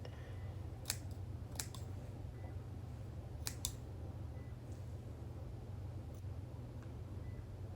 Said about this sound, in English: my surgical scissors to get that cut that I want